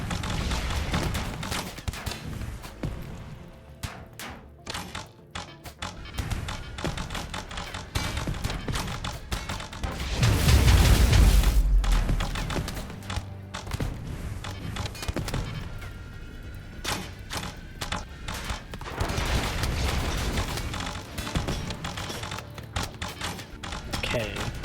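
Turret gunfire during a colony battle in the video game RimWorld, dense rapid shots and thuds layered with game effects, a heavier boom swelling midway, under continuous talk.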